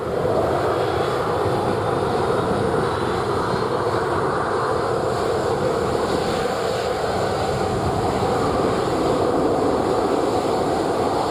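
A Boeing 737-800's engines roar at Montego Bay airport in Jamaica, a broad, steady rushing drone that stays even and loud throughout with no break.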